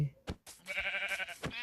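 A white sheep in the video game Minecraft bleats in a short, wavering, nasal call lasting about a second, clear and close, preceded by a brief thump.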